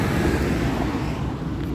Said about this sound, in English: Pauses are for the really loud trucks that run up and down when I'm at the front part of the parking lot here.